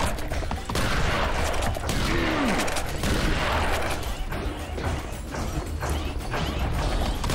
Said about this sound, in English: They're the little mechs that shoot lasers.